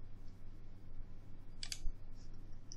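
A computer mouse gives a quick pair of faint right-clicks over a low, steady room hum.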